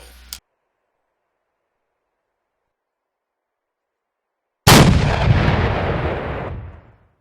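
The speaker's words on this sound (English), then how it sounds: "Now the impact, explosion, the smoke and all that stuff, that's from blast core." An explosion from an Arma 3 war mod hits after a long silence: a sudden loud blast that rolls into a dense, rumbling roar and fades away over about two seconds.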